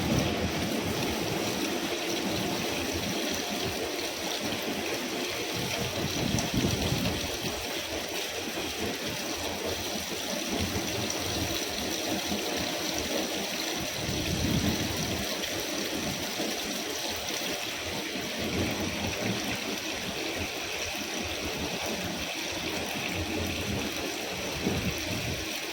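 Water runs and splashes steadily over a teddy bear as it is washed by hand, a continuous close hiss with occasional louder sloshes.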